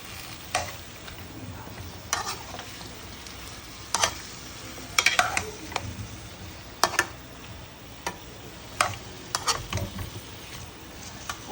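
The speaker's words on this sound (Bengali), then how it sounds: "আমি লাউটা ভালো করে মিক্স করে নিই।" Spoon stirring bottle gourd and fish curry with potato in a pan, a soft simmering bed broken by sharp scraping and clinking strokes at irregular intervals, close and alone without speech.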